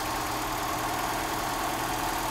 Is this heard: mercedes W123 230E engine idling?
yes